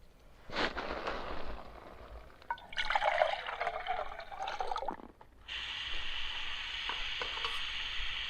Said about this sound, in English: Bit of a Chris Homer pour there.